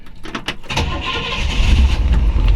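A 1958 Chevrolet Impala hardtop with a 348 four-barrel V8 cranks over with a few quick starter whirs, then catches and settles into a loud, deep, rumbling idle close by.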